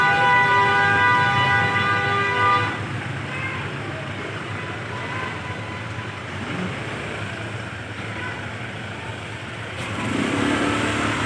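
Congested traffic crawls along a narrow street, opening with a sustained vehicle horn over a low engine rumble, then steady idling and passing-vehicle noise with faint voices in the background.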